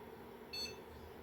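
A single short electronic beep from a newly built PC at power-on, brief and fairly clear against a steady low hum.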